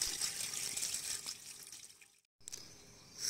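Water is poured into a pot while cooking chicken pulao in a village kitchen, a soft continuous splashing stream that breaks off briefly into silence near the end and then resumes faintly.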